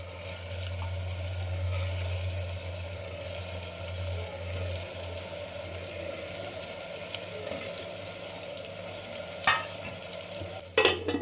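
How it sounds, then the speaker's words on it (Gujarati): Stuffed eggplant and other filled vegetables go into a spiced pan in a home kitchen and fry with a soft, steady sizzle, joined near the end by a few sharp scrapes and clatters as they are stirred. "હવે એમાં આપણે ભરેલા શાક ઉમેરી દઈએ."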